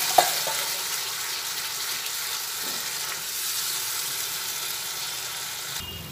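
A splash of water hits spice masala frying in a pan, giving a steady broadband sizzle that runs evenly for several seconds after a brief initial burst, close and moderately loud with no talk.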